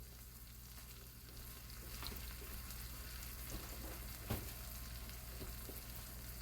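Roast beef sears in a hot pan, giving a faint, steady sizzle with a soft clink partway through, heard alone without talk.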